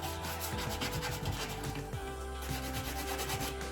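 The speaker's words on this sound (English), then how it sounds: "I'm just taking a hand sanding block" Steady back-and-forth rubbing of a hand sanding block over painted wood, rhythmic abrasive strokes close up with a low hum underneath.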